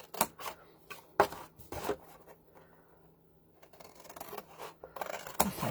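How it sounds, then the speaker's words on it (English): Scissors snip through a paper box tab while crafting a Valentine's treat box, a series of crisp close cuts in irregular rhythm with a quieter pause midway. "So I like to go ahead and cut these straight up right to that score"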